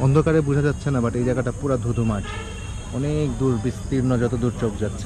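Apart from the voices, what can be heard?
crickets chirping in village at night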